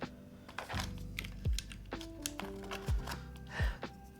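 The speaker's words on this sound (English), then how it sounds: "How is our little keyboard here?" Typing on a QK75N mechanical keyboard, with a run of close, crisp keystrokes in an irregular rhythm and a few heavier low thumps mixed in, heard alone without talk.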